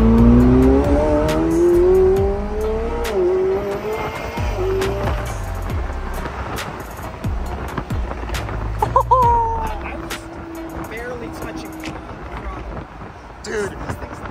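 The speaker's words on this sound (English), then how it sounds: "it sounds so good without an exhaust" A supercar with no exhaust fitted revs hard while being driven off-road, its engine note climbing and falling in loud, raw bursts, with excited voices talking over it.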